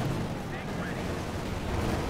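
Rocket explosions and artillery-style blasts from 88 mm rockets in a Company of Heroes 2 match, forming a dense, continuous rumbling barrage of booms and bursts with no clear gaps.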